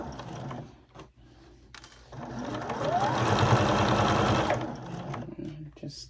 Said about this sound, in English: Let's go back to the sewing machine and get this sewn.